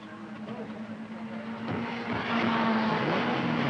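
Race car engine at the 1967 Gallaher 500 at Bathurst, a steady mechanical drone that swells and grows louder as the car climbs the hill, heard from a distance with no voices.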